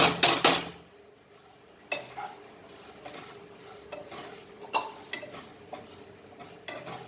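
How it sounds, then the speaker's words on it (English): Vermicelli for almond seviya kheer is stirred and roasted in a pan, with intermittent scraping and clinks of a spoon against metal over a faint, low sizzle, close and moderately loud. "Roast this to brown."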